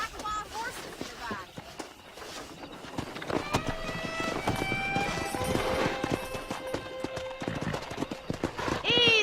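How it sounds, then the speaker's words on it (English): Horses' hooves clatter in a galloping rhythm while several loud whinnies ring out from a pack of wild horses in the video game Red Dead Redemption, with voices speaking over the herd. "there's a pack of wild horses"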